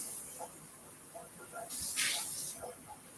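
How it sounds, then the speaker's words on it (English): Cold water is poured over hot blanched garden potatoes in one brief, quiet hissing splash that stands out against a faint, hushed background. "And then basically, just pouring cold water over it."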